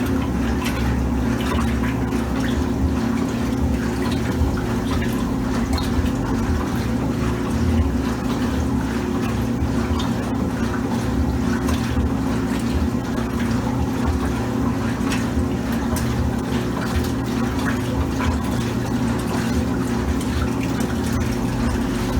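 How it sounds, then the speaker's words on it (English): A Kenmore laundry center washing machine agitating on a regular cycle: steady machine hum and churning water slosh continuously, with a constant low drone and no talking. "Just the little noisy sloshy water."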